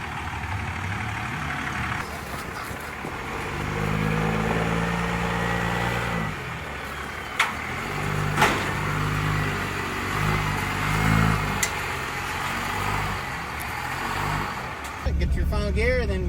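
Stock diesel pickup truck running on a dyno, a loud steady engine roar that swells and climbs in pitch through several pulls, with a few sharp knocks and an abrupt change near the end.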